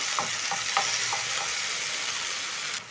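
Diced tomatoes stirred into soft-cooked onions in a pan for a coconut bean stew, a steady sizzle with a few soft scraping stir strokes early on, close and fairly quiet.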